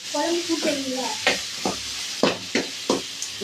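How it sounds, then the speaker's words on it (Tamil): Onions sauté in a pan for a Thoothukudi-style fish curry, a soft sizzle under repeated scraping strokes of a spoon, close up, with a voice briefly at the start. "நல்லா வதங்கட்டும்."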